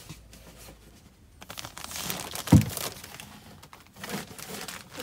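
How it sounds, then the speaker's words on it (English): Tape being pulled and pressed onto a shipping package, with soft crinkling and tearing rustles and one sharp mid-clip rip, fairly close and quiet. "I'm going to have to tape it"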